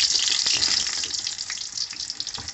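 Pointed gourd (potol) pieces frying in hot refined oil in a kadai, a dense, loud, continuous sizzle close up with no voices.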